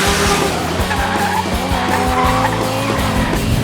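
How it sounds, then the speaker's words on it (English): A powerful car drifts around a corner during the Gumball 3000 rally, with a loud, continuous engine roar and sustained tire squeal running through the whole stretch, close and dominant. "you drift around the corner there"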